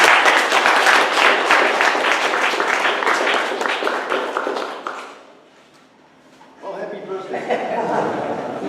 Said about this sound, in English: So let's give them an applause.